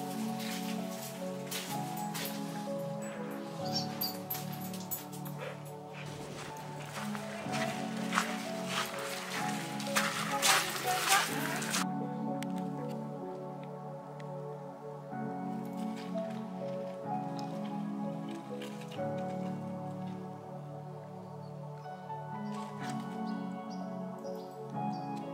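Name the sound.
inside a sea cave on the Yorkshire coast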